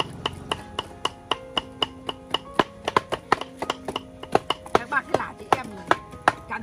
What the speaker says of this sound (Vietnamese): Thế băm toàn thịt thăn lên đây.